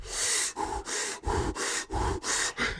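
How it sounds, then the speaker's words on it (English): Intense, rhythmic breathing exercise, loud and close: about six forceful breath cycles with harsh airy exhalations and grunting snorts, each burst separated by brief pauses, with no speech. "because I didn't do this breathing exercise"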